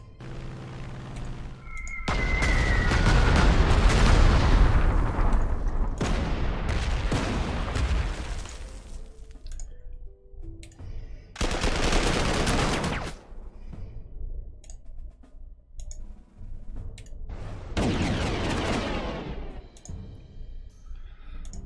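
Booming bombardment and artillery fire in the wargame Panzer Campaigns, with several loud bursts of blasts and rumbling explosions separated by quieter gaps, the strongest salvo early on and further volleys later.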